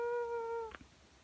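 A domestic cat gives a single short tonal meow, fairly close and clear in a quiet room, fading after a fraction of a second with a faint trailing sound.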